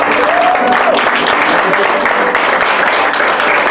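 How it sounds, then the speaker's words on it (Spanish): A church congregation applauds at a Spanish-language service, a dense, steady wash of clapping that stays loud and even throughout, with a faint voice or two mixed in. "Den un aplauso a su Señor."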